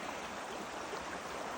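A creek flows as a steady broadband rush of moving water, even and continuous, with no other sounds over it.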